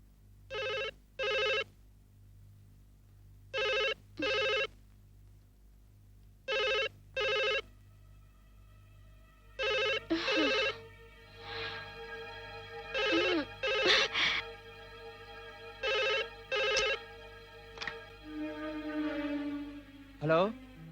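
A telephone rings in repeated double bursts with short pauses between, loud and close; later in the clip, voices and other sounds mix in with the ringing.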